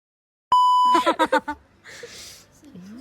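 A steady censor bleep tone sounds loud and alone for about half a second, then cuts into a burst of chopped, bleeped-over speech with other voices following.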